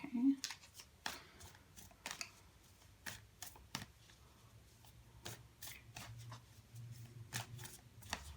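Moonology oracle cards being shuffled by hand, producing a series of quick papery riffles and slaps at a loose, irregular rhythm, close and fairly quiet, with a brief faint voice near the start.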